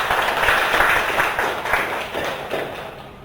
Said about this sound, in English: Please welcome her with loud applause.